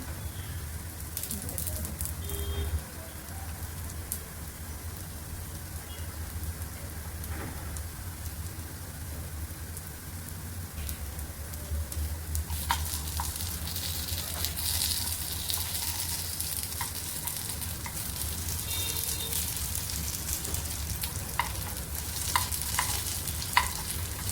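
Sabudana appe fry in oil in an appe pan, giving a steady close sizzle and crackle throughout with small pops and light scraping taps, with no voices.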